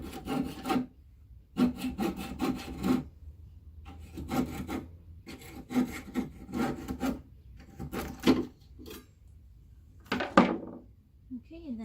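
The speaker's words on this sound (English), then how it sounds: "I'll show you on this one how I cut it with the copping saw right here." A coping saw cuts through the ends of a wooden mirror frame in repeated bursts of rasping back-and-forth strokes, pausing briefly between runs, close and fairly loud.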